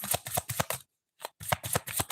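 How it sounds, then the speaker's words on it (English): Tarot cards riffled in rapid bursts, a brisk run of crisp flutters, a short pause, then more shuffling, close up and alone without talk. "We got a lot of cards that keep flying. All right, let's shuffle again."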